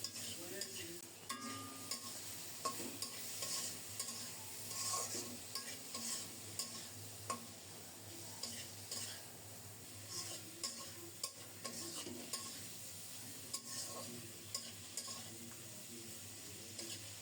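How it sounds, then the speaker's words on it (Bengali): Spices with turmeric and chili powder are stirred and sautéed in a pan: quiet, regular scraping strokes repeat over a low sizzle, with no speech. "3-4 মিনিট পর ঢাকা উঠিয়ে ভালো করে নেড়ে চেড়ে খুব সুন্দর মতো"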